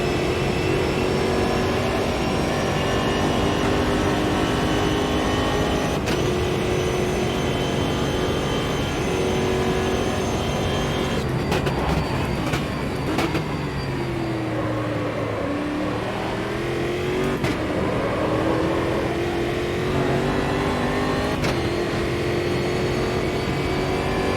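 Race car engine in the Automobilista 2 sim racing game, a loud continuous drone through a lap, with pitch rising under acceleration and dipping on downshifts into corners before climbing again.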